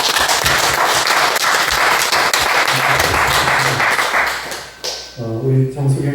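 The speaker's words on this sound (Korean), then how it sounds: "우리 박수 한번 환영해 주시기 바랍니다" Church congregation in a small rural church applauds to welcome a guest musician, dense close clapping that fills most of the moment before fading into a few spoken words.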